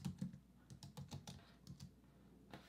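Typing on a computer keyboard, a quick irregular run of about a dozen soft key clicks in short bursts, close and quiet with no voices.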